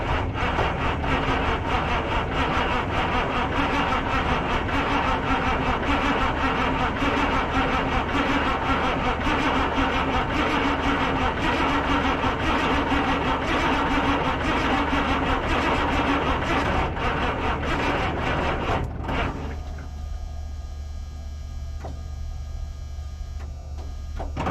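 A 1980 Autocar semi truck engine cranking slowly on a weak battery, a steady droning churn close up for about twenty seconds that then drops off to a quieter hum.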